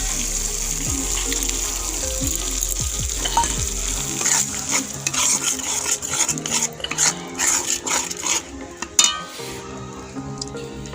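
Mustard and poppy seed paste hits hot oil in a pan for a catla fish curry, sizzling loudly while a spoon scrapes and stirs in repeated clattering strokes, the frying hiss easing as stirring continues.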